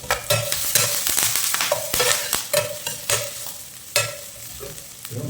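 Mutton pieces sizzle and fry in a hot pan while a spoon stirs and scrapes them, giving loud, close, rhythmic scraping knocks over a constant bubbling sizzle.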